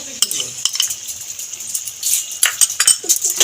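Spice masala being stirred and sautéed in a pan with salt, sugar and yogurt for a black pepper cauliflower curry, with repeated scraping and metallic clinks of a spoon over a light sizzle and no speech.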